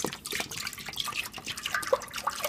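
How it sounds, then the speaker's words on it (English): Plain fat-free milk poured into a pot on the stove, a close, bubbling trickle with irregular splashy drips, steady and moderately loud with no voices over it. "I'm just using plain fat-free milk, and just pour it in"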